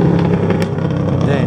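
A car passes close on a mountain road, a loud brief engine and tire rush that swells and fades within a second and a half, with a person talking over it.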